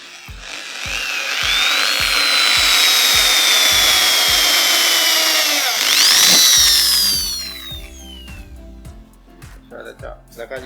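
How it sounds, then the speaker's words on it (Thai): A power drill whines at high speed, rising then easing off, with a second short burst and rhythmic knocking underneath, fastening a screen door; a voice is heard nearby. "เราจะทำการเจาะยึด"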